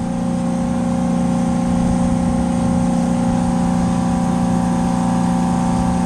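A freezer compressor runs with a loud, steady mechanical hum and whir, constant and close throughout with no pauses or talking.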